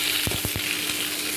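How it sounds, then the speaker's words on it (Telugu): Onions fry in a pan, giving a steady bright sizzle with a few quick scraping stirs near the start, close and continuous. "ఆనియన్స్ ఫ్రై అవుతున్నాయి కదా"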